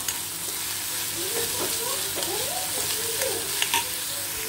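Chopped onions sizzle and fry in a pan for a homemade chicken burger, a steady dense crackle with scraping stirring strokes throughout, close up and with no speech.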